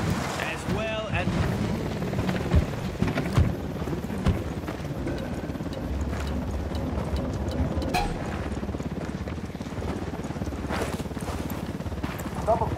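In Ghost Recon Wildlands, a helicopter drones steadily overhead, a dense rotor wash mixed with wind noise that runs continuously across the scene, with occasional sharper knocks and thuds layered on top.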